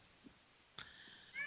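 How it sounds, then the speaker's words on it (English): A cat meows once, a short rising cry at the very end, recorded quietly in an otherwise hushed hotel and bar during a night-time paranormal investigation, with a brief faint knock earlier. "Now that's a cat. I heard the cat."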